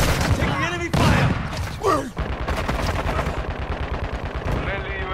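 Rapid bursts of automatic gunfire in a Call of Duty Modern Warfare 2 team deathmatch, loud and dense, with a voice talking over the shooting.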